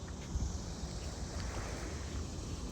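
Small waves lap in open water that is starting to pick up, a soft, continuous wash with light splashes and some wind rumble, fairly quiet and without voices.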